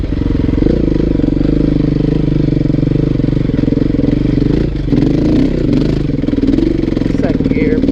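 A 2016 KTM 350 EXC-F dirt bike engine runs loud and close for the whole stretch, a steady buzzing drone with a brief dip near the middle before it carries on, and a voice talks over it.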